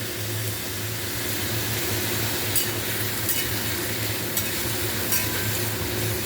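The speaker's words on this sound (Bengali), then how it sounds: "তো এটা এভাবে নাড়াচাড়া করতে হবে" A dish cooks in a pan with a soft, constant sizzle and a low hum, broken by a few faint scrapes of stirring near the end.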